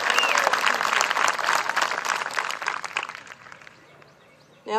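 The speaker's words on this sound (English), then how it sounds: "let's give this group, the graduating class of 2023, a huge round of applause." Graduation crowd at a USC-Union commencement ceremony clapping loudly for the class of 2023, dense applause that gradually thins and fades toward the end.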